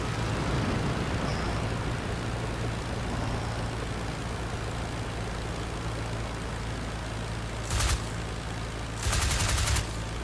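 Aircraft machine guns fire in the IL-2 Flying Circus flight sim, in two short bursts near the end over a steady engine drone.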